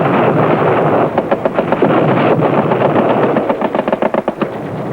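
Machine guns fire continuously in a military training film, a loud, dense roar of rapid bursts with distinct rattling rounds standing out in the second half.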